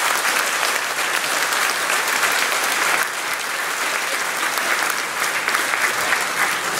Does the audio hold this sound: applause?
yes